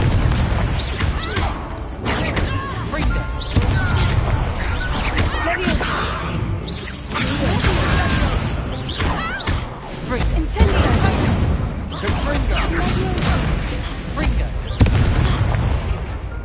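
Repeated fiery spell explosions from the Confringo curse in Hogwarts Legacy, bursting and booming close and loud over busy combat noise, with a voice talking through much of it.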